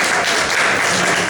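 Dense, continuous audience applause at a comedy show, a full wash of many hands clapping at once, loud and steady throughout.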